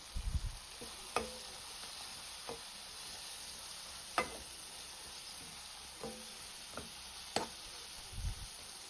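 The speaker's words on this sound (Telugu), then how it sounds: "ఈ స్టేజ్లో కోసి పెట్టుకున్న క్యారెట్స్ వేసి బాగా మసాలాలు పట్టేలాగా కలియదిప్పుకోవాలి." Chopped carrots stirred into masala in a pan for veg biryani, a soft steady sizzle broken by scattered light clinks and scrapes of the spoon, quiet and without talk.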